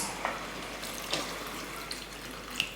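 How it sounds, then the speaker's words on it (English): Water from a cup poured into a cooking pot of gnocchi sauce, a steady low wash of liquid with faint sizzling and a few small clinks, fairly quiet and without talk. "So we're gonna add that cup of water in here."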